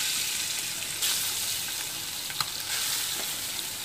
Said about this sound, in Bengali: মাছগুলো আমি একই তেলের মধ্যে ভেজে নিচ্ছি